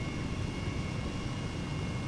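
An Airbus H135 helicopter flies in Flight Simulator 2020, a steady droning rotor and engine hum with a faint high whine, continuous and even with no talking.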